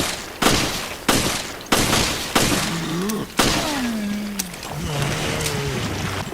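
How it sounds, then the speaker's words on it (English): M92F handgun fired in Resident Evil Revelations at an ooze enemy, six loud sharp shots spaced roughly evenly, each with a short echoing tail, followed by creature groans. "Alright, so 7 shots from the M92F to take down a standard ooze."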